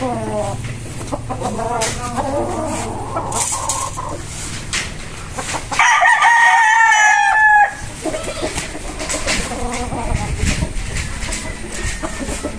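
A sweater gamefowl rooster from the Red Game Farm line lets out one loud, clear crow amid a busy farm yard full of clucking chickens and background noise, with voices talking nearby.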